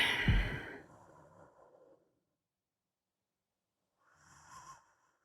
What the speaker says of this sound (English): You can hear him breathing.